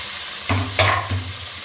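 Chopped onions drop into hot oil already frying curry leaves for a cluster bean stir-fry, giving a loud hissing sizzle in three quick bursts over a steady low hum.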